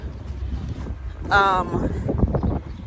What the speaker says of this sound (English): I don't want it to be too windy because I can feel that it's a bit windy.